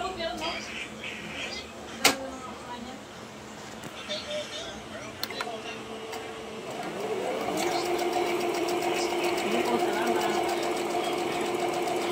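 A Jaguar portable sewing machine is tested after repair, starting with a few clicks and knocks and then settling into a steady, fairly loud mechanical whir, with a voice talking faintly underneath.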